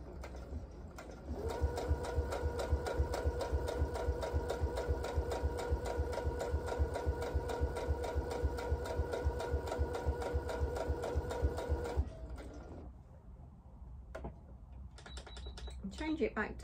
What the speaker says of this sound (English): I'm just doing a back stitch at the end of the small stitches just to hold it nice and firmly